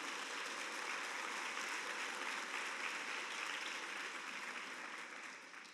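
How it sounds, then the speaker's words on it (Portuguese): Strong applause from a congregation at a faith and finance church conference, dense steady clapping filling the space, then thinning slightly toward the end. "Saúde ao Jesus, com uma forte salva de palmas."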